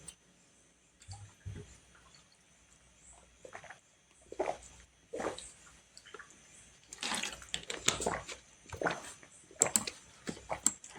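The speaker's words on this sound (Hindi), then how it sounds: "थोड़ा पानी पी लेते हैं" A person drinks water during a break in a coding session, with soft scattered sips, gulps and splashes that are quiet at first and grow denser and clearer toward the end. No one speaks.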